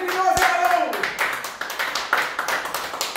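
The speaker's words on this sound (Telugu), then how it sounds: "క్లాప్స్." A small crowd claps at a political gathering, a brief burst of hand claps with a voice briefly heard over it.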